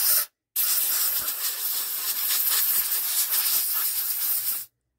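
Air is blown into a wet carburettor on an old Crossley engine, a barn-find example, giving a steady, loud, broadband hiss that runs for about four seconds after a brief gap near the start, then cuts off.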